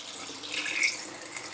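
Blackberry juice is poured into a demijohn, making a steady, close-up splashing rush of liquid with a slight hiss. The sound stays fairly even for the whole short stretch and no one talks.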